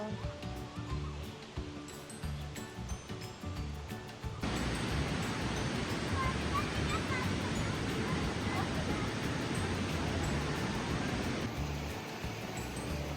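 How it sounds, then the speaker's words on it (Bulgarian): A swollen, fast-flowing river in a park near Sandanski roars as a steady broadband rush, loud and close, with a voice briefly heard at the start. "реката е супер буйна и шумна"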